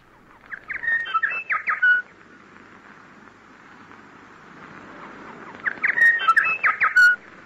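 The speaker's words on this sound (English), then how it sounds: "that's the well-loved interval signal that used to introduce programs from the shortwave service of Radio New Zealand" Radio New Zealand's shortwave interval signal, a bird call played as two bursts of bright chirping, whistled phrases about five seconds apart, clear and close over a soft background hiss.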